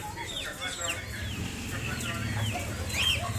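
Seel breed roosters and hens cluck repeatedly at close range in a coop shared with pigeons, their short calls and clucks rising over a low, steady background.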